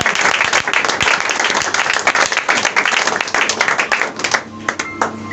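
A church congregation at a Sunday worship service claps and applauds continuously, a loud, dense roar of many hands close by that thins out toward the end, with a faint voice underneath.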